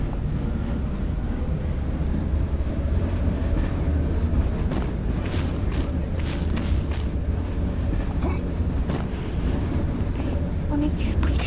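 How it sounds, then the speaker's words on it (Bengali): A train runs past outdoors with a loud, continuous rumble and rattle of wagons, wind buffeting the microphone throughout. "ও ট্রেন চালু হয়েছে"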